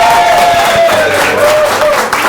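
Audience giving a round of applause at a live show, loud sustained clapping with crowd noise and a few voices mixed in, while musical tones ring out underneath.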